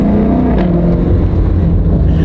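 A loud, deep Shelby sports car engine rumbles close by at a race track, a thick steady exhaust roar with a brief exhaust-pop crackle partway through.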